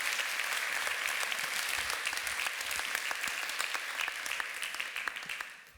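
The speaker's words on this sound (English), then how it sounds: "One more big applause." Sustained applause from a tech conference audience, dense and steady throughout before trailing off at the very end, with no talk over it.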